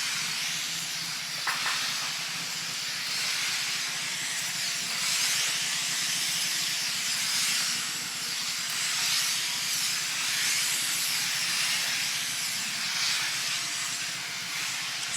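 A Shark Pro steam pocket mop releases a continuous, fairly loud hiss of steam while cleaning a concrete floor, steady and unbroken with slight swells, and no talking.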